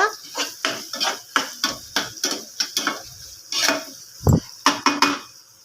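Egg being stirred with ginger garlic paste in a pan, a run of close, sharp scraping and clinking strokes in a steady rhythm, with no talk over them.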